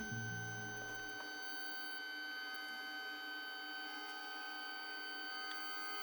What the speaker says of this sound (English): this is the Pix Cut S1 photo sticker printer and cutter